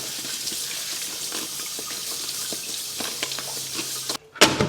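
Soaked onion rinsed under running tap water, a steady close splashing stream that cuts off briefly near the end.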